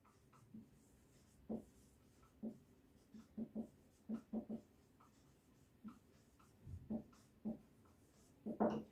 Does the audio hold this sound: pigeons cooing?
no